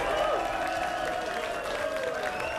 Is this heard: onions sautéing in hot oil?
no